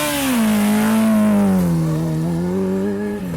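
A Suzuki Hayabusa motorcycle roars loudly up a hill climb race course, its engine note rising and falling steadily as it passes close by.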